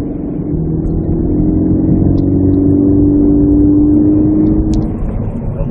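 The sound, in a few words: 2014 Scion FR-S car engine while driving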